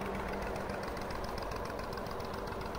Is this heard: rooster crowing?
no